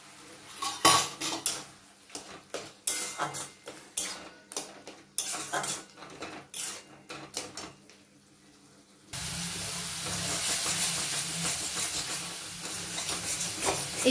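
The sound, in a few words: pointed gourd pulp frying with spices in a wok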